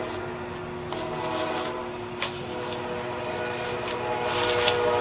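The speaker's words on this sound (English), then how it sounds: "y'all hear that train once again" A train passes nearby with a sustained rumble and tonal horn-like whine holding steady, punctuated by a few faint clanks, fairly loud and without talk.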